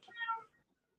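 A human voice imitates a cat, giving one short, close meow that rises and fades within about half a second, followed by silence.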